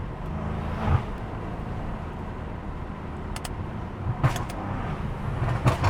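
BMW M5 driving along with a steady, moderate engine and intake drone inside the cabin, with a few brief clicks and knocks on top.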